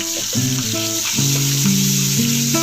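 Tomato chutney goes into hot tempering oil with fried dal and cumin, giving a steady loud sizzle that carries on throughout, with tonal music playing over it.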